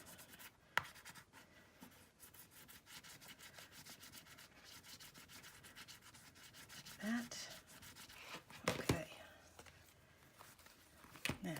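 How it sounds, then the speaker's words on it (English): A bone folder creases and rubs across paper on a handmade mini album, producing soft, continuous scraping strokes close up, with a few sharper swipes near the end. "Let's take our bone folder."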